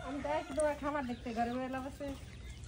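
Native desi chickens on a village poultry farm, close clucking and crowing-like calls in a short run of several phrases, loud against quiet surroundings.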